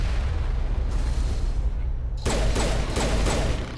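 Gunfire in the Mass Effect video game as a sniper is taken out: a sudden loud burst of rapid shots and booms breaks in partway through and keeps going over a steady low rumble.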